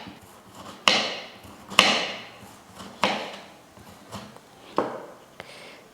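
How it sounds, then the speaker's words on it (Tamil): A knife chops a bitter gourd into thin round slices on a board, producing about five sharp, close knocks spaced roughly a second apart, each with a short fading tail. "பாவக்காயை கட் பண்ணி எடுத்தாச்சு."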